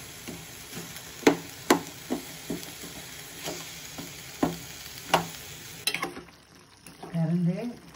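Potatoes cooking in a pan before palak spinach goes in, with irregular spoon knocks and clacks over a soft sizzle, then a quieter stretch and a brief murmur of voice near the end.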